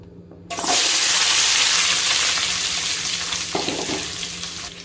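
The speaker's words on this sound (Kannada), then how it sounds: "ಲೋ ಫ್ಲೇಮಲ್ಲೇ ಫ್ರೈ ಮಾಡ್ಕೊತೀನಿ" Chopped capsicum hits hot oil and bursts into a loud, steady sizzle that holds for several seconds on a low flame, easing slightly, with a light clink of stirring near the end.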